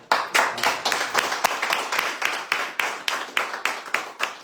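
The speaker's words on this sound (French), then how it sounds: "Qu'on va applaudir, professeur Soudure, qui est rentré" Applause from a small studio audience on a French radio bistro show, welcoming a returning guest: brisk, uneven hand claps from a modest group, close and steady for the whole stretch with no talking over it.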